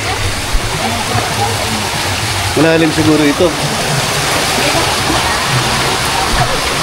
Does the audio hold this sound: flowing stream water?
yes